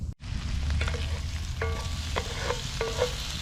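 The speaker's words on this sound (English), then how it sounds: "I added about 2 tablespoons of minced garlic." Minced garlic and rice fry over a campfire, giving a steady close sizzle with a few light utensil scrapes and taps, no voices.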